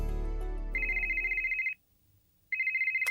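An IP desk phone rings with an incoming call from the space station: two bursts of electronic ringtone, the first following a low rumble with other sound, then a pause of near-silence before the second ring starts.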